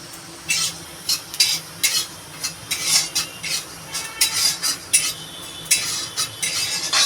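Coriander and black cumin seeds dry-roasting in a pan, stirred in repeated rhythmic scrapes with a faint sizzle underneath, close and clear.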